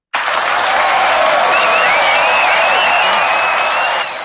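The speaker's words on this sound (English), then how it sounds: "And the crowd goes crazy." A crowd-cheering and applause sound effect plays loud and dense, steady clapping with a few whoops and whistles rising over it, holding for about four seconds before cutting off abruptly.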